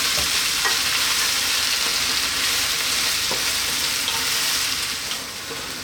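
Mustard cabbage leaves fry over fairly lively heat, a loud, continuous close sizzle with occasional faint stirring scrapes, easing off slightly at the very end.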